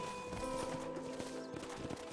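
Horses in the Red Dead Redemption video game, faint clip-clop of hooves in a quick rhythm over a steady ambient hum with thin tonal game sounds.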